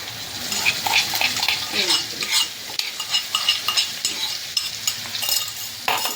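Ginger, chili and garlic paste is stirred and fried in a pan with bay leaf, curry leaves and cloves for Rajasthani kadhi, giving a steady close sizzle with scraping spoon strokes and light metallic clinks.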